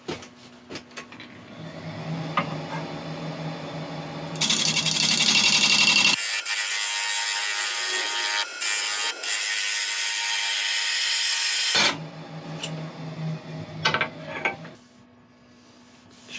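A grass tree root spins on a wood lathe while being sanded, a loud, steady hissing rasp over the whir of the motor for several seconds, with quieter lathe running before and after.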